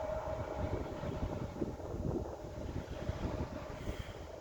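Steady, heavy wind roars and buffets the microphone, a dense low rumble with no letup throughout.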